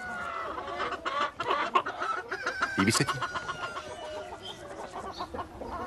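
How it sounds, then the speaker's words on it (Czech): A rooster crows and chickens cluck nearby in a farmyard, busy overlapping calls and sharp cackles across the clip, with a brief spoken question partway through. "třeba tenhle kohout."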